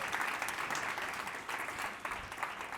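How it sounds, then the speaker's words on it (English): Audience applause for a panel of book authors at a talk event, a steady dense clapping that holds evenly throughout at moderate loudness, with no voices over it. "Everyone, please give a round of applause."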